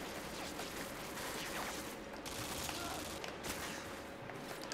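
Dense, continuous gunfire from a Modern Warfare 2 multiplayer match, a steady crackle of rapid shots and bursts running the whole time with no clear gaps, loud and close, with some faint background voice mixed in.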